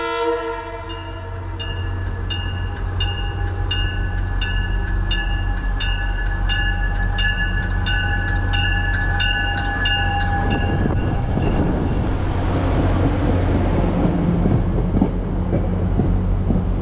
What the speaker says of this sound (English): With the drone of a Jeep pushing, Metro North Train 6861 eases into the South Norwalk station westbound to a stop on track 3